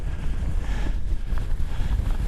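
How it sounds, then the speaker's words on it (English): Strong wind on a mountain plateau in the eastern Drumochters buffets the microphone with a constant, loud, low roar and gusty rumble and no talk. "Holy smokes, it's windy."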